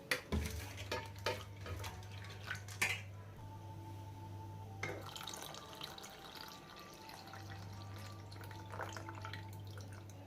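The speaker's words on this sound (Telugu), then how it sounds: "ఆ చింతపండు రసాన్ని కూడా వేసుకుంటున్నాను" Tamarind juice is poured into a pot of Andhra-style dal, with a quiet trickle and splash of liquid and a few clinks of a vessel, close and faint beneath a low steady hum, no talk.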